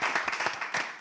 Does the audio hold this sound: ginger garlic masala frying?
no